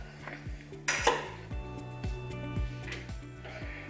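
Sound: taking cooked beef out of a Tefal Actifry fryer

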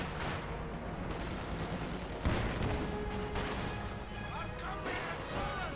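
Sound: artillery bombardment in video game Company of Heroes 2

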